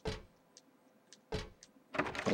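Locked door in the horror game Silent Hill 3 rattling in three short, loud bursts of clattering handle and frame noise, separated by quieter gaps with faint clicks.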